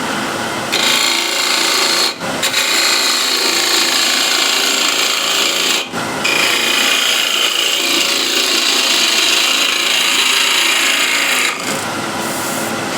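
A spindle gouge cuts wood on a lathe running at 1600 RPM, a loud continuous hissing scrape broken by a few brief pauses as the tool lifts off, with no talk.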